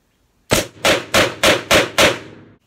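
Colt Python revolver, 2020 model, dry-firing in double action: six sharp metallic hammer clicks in a steady rhythm, close and loud, with no talk.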